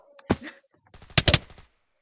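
Gunfire in Minecraft during a 1v1 fight: a single sharp shot, then after a pause a quick burst of several loud rapid shots, close and dry, with faint talk around it.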